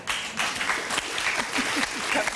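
A TV studio audience bursts into brief applause, a dense patter of many hands clapping at close to moderate distance, lasting only a couple of seconds with a faint voice mixed in.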